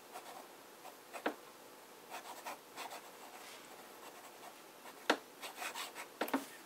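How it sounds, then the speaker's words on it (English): A fountain pen filled with Montblanc Jonathan Swift ink writes on paper, giving faint, close scratching strokes with a few sharper ticks and pauses between words. "Start with a bit of fine writing."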